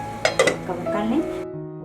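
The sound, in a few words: covering pan of achari bhindi with a lid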